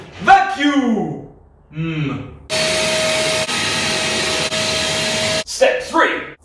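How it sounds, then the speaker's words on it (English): Steady broadband whine of a vacuum cleaner running on a workshop floor for about three seconds, loud and even with a faint constant tone, bracketed by voiced breaths or vocal noises before and after. "Vacuum."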